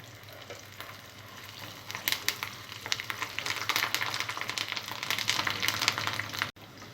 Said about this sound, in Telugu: వెల్లుల్లిపాయ కొద్దిగా ఫ్రై అయిన తర్వాత కరివేపాకు వేసుకోవాలి.